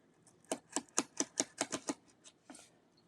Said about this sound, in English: So I'm going to cut just inside these lines.